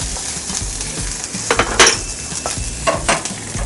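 Onion, garlic and mustard seed sautéing in a pan, a soft sizzle broken by a few sharp stirring scrapes and utensil clicks.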